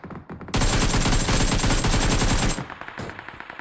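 Sustained automatic fire from an AKM rifle in the mobile battle royale game BGMI, a dense, loud rapid burst lasting about two seconds, followed by a few scattered fainter shots and clicks.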